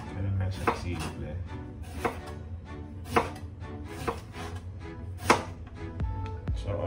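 Ginger being chopped into large pieces on a board, a steady series of sharp knife thuds at roughly one-second intervals, close and clear over a low background hum.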